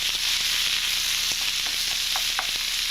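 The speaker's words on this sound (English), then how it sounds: "get your wok nice and hot, throw all your vegetables in there" Garlic and vegetables stir frying in a hot wok: a steady, loud sizzle throughout, with faint scraping and tapping from stirring, close by and without talk.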